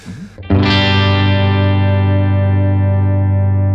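A sustained, saturated electric guitar chord through a Blackstar TV10 tube amp rings out loud with gritty distortion after a brief scratchy lead-in, holding and slowly decaying.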